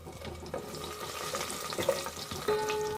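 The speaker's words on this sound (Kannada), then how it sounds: "ನಂತರ ಒಂದು ಬ್ಯಾಡಗಿ ಮೆಣಸನ್ನು ಈ ಥರ ಕಟ್ ಮಾಡಿ ಹಾಕ್ಕೊಂಡು ಎಲ್ಲವನ್ನು ಫ್ರೈ ಮಾಡಿಕೊಳ್ಬೇಕು." Curry leaves and cut Byadgi chilli fry in hot oil for a special palya, a soft, close crackling sizzle with faint stirring clinks and a short tonal ring near the end.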